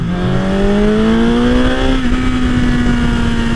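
Engine of a vehicle with a flashed ECU, loud and close, rising in pitch under acceleration, briefly dropping at a gear change and then pulling steadily on, with a constant whine over the roar.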